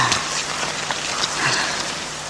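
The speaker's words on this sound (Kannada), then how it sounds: "ಈ ಮಳೆಗಾಳಿಗೆ ಏನು ಕೇಳಿಸಲ್ಲ ರೀ." Heavy rain pours steadily in a dense, hissing wash with gusts of wind, loud and continuous with no voices.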